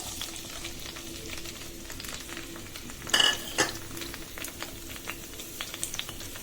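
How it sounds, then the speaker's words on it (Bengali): Chopped onion, garlic and green chili frying in hot oil give a steady close sizzle, with a couple of louder crackling bursts as the pan is stirred. "এবার কেটে রাখা পেঁয়াজ, রসুন, কাঁচামরিচ দিয়ে দিচ্ছি।"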